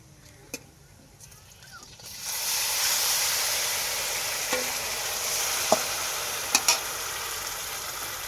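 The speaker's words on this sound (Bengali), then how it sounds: "আমরা আগেই ম্যারিনেট করে রেস্টে রেখেছিলাম এবার এই চিকেনটা এর মধ্যে ঢেলে দেবো" A quiet kitchen hums until marinated chicken is poured into a hot pan for green chicken, setting off a loud, sustained sizzle and hiss with a few sharp spatula clicks.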